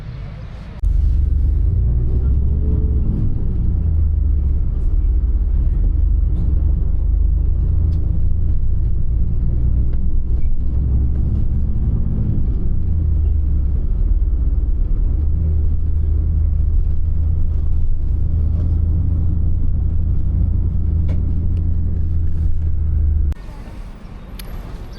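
Steady, loud engine rumble inside a moving bus on a ride near mountains, with a continuous low drone that holds evenly and cuts off abruptly near the end.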